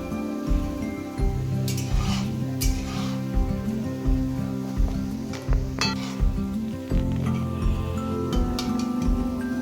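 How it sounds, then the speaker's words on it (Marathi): Gulab jamun frying golden brown in oil over a low gas flame, a continuous soft sizzle with intermittent clinks and stirring taps of a utensil against the pan. "गोल्डन ब्राउन फ्राय करायचे, गॅस बारीक ठेवून।"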